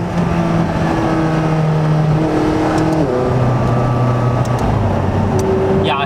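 A McLaren 570S Spider's engine pulls hard up an on-ramp with the roof up, loud and close, its harmonic tones climbing through gear after gear with clear shift steps, and a brief higher whine near the end.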